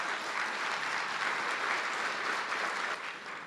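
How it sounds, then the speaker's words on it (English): Audience applause welcomes American Federation of Teachers President Randi Weingarten at an ABNY event, a dense, steady wash of clapping from a sizeable crowd that holds evenly and eases off slightly at the end. "You can give an applause to that if you want."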